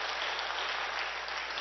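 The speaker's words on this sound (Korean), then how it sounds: "누군지는 몰라도 박수로 한번 격려해 주시면 어떨까요?" Church congregation clapping in encouragement during a sermon, a dense, even wash of applause throughout, fairly soft and distant.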